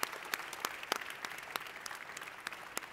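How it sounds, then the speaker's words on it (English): An audience claps for a panel, with scattered individual hand claps in an irregular rhythm, sounding small and somewhat distant, with no talk over it. "can I ask the audience to join me in a round of applause for our fantastic panel?"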